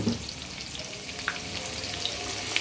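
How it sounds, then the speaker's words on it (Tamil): Onions sizzle in hot oil after mustard seeds have popped, a steady close frying hiss with a few faint crackles and no talk. "கடுகு பொரிஞ்சிருச்சு, வெங்காயம் போட்டோம்."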